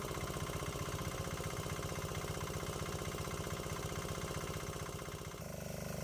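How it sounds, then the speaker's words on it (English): A diesel engine powering a diesel-electric golf cart runs at raised revs with a steady, rapid mechanical chugging throughout. It is heard close and alone, then the tone drops near the end. "so now we have the engine revved up a bit"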